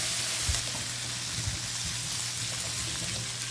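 Butter sizzling in a pan while cooking a soufflé, a continuous crackling hiss with a few soft stirring or scraping bumps underneath and no talking.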